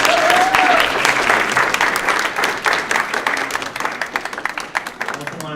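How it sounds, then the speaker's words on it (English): An audience at a luau music recital applauds the performers with loud, sustained clapping that thins into scattered individual claps by the end, with some voices and talk in the crowd. "let's give a round of applause to all the performers"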